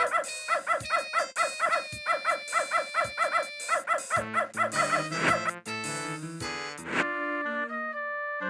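A dog in the 1994 PC DOS game Beneath a Steel Sky gives a rhythmic run of repeated barks, then breaks into drawn-out, wavering howls, loud and alone with no talk over it.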